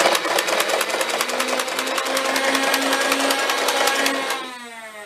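A NERF Aliens M41-A pulse rifle toy's electronic firing noise buzzes loudly and steadily for about four seconds with a rapid rattling pulse, then cuts off and winds down.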